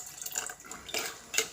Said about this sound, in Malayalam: അപ്പോൾ ആ വെള്ളമൊക്കെ പാർന്ന് റെഡിയാക്കി ഇനി കുക്കർ അടച്ചിട്ട് നമുക്ക് തീമൽ വെക്കാം